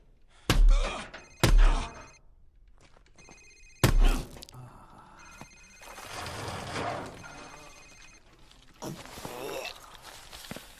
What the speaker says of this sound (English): Sir, it's his cell phone.